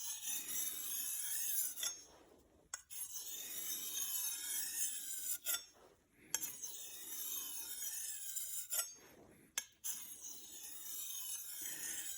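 A hunting or kitchen knife being sharpened gives repeated rasping, scraping strokes broken by short pauses, close and fairly quiet, with no talk.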